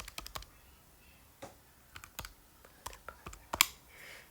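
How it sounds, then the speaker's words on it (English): Numbers are keyed into a calculator for a compound interest calculation: quiet, sparse, irregular button clicks, some in quick clusters, with a louder tap near the end. "typing this part into a calculator"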